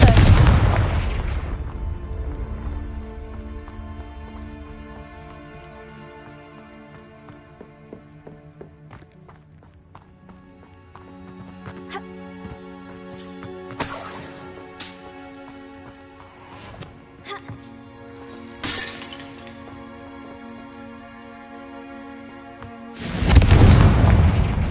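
Heavy booms burst out in a video game as the Confringo spell explodes, with loud blasts at the start and end and sharp cracks in between, over a background music bed.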